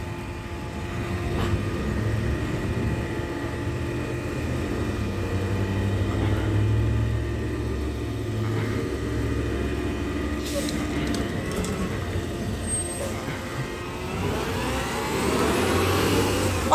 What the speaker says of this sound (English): So now I'm recording my truck.